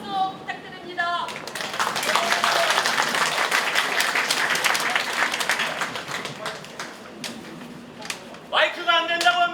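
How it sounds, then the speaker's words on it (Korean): Applause from union members at a railway workers' rally in Korea, a crowd clapping loudly and steadily for several seconds, with speech over a PA at the start and end. "동지들 큰 박수 부탁드립니다."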